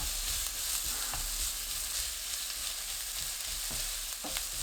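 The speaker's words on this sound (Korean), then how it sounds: "지글지글 소리 나면 양파 넣고 중불로 1분 볶습니다." Minced garlic and onion stir-fry in olive oil in a pan, giving a steady, close sizzle with faint stirring clicks and no voices.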